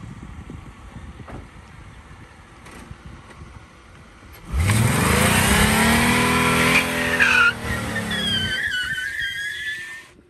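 A homemade derby car idles quietly, then roars loud and close as its engine revs hard and the tires drag and squeal across the ground for several seconds before the noise tapers off.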